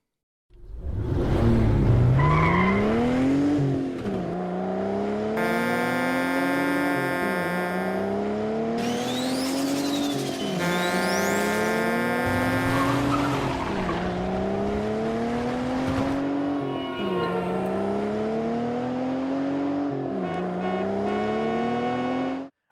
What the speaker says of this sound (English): Everything that you hear, the door opening, closing, the car sounds, the engine noises, everything was added later on.